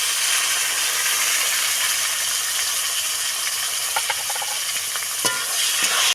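Chopped tomato added to browned onions in a hot pan for a soybean curry, a steady frying hiss with scattered scraping stir clicks toward the end.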